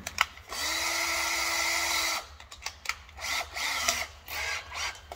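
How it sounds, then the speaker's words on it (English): A power drill spins up for about two seconds with a steady whine, then gives several short bursts and stops amid clattering during work on a tap holder for a firetruck bumper project. "and then put it in the drill"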